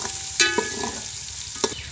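Ghee sizzles and crackles in a pan for a village-style masala fish curry, a steady close frying hiss with a few sharp clinks of a utensil against the pan.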